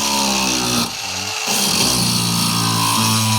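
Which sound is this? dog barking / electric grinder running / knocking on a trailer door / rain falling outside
electric grinder running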